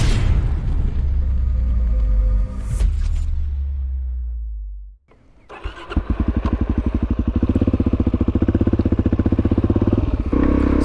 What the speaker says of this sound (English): the Supermoto, which I'm riding on right now